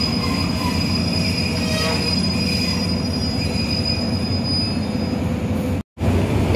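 An evening train leaving Bangkok station rolls past with loud, continuous high-pitched wheel squeal over a steady rumble of rail cars, heard close and unbroken until a brief dropout near the end.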